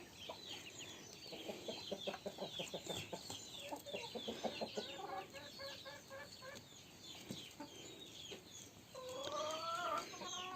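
Chickens on their perch cluck in quick, rhythmic runs, several birds overlapping at moderate distance, ending with a higher rising call.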